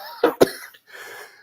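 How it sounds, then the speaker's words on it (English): A man coughs twice in quick, sharp, close bursts, then a short breathy pause follows. "It's got me coughing bad"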